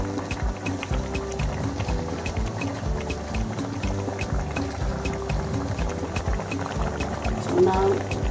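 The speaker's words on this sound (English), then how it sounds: "So right now I'm going to add my veggies, my sauce, as you can see" Vegetables and sauce go into a pot of Nigerian vegetable soup, with liquid bubbling and sloshing throughout under a voice.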